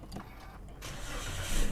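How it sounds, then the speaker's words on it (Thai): A 2019 Toyota Vios 1.5 engine cranks and catches after a push-button start, then settles into a steady idle, close by and moderately loud. "เหยียบเบรก กดปุ่มทีเดียว"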